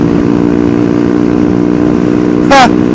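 Honda Grom supermoto motorcycle engine idling steadily and close by at a supermoto meetup, a continuous buzzing drone that holds an even tone, with a short burst of a voice near the end.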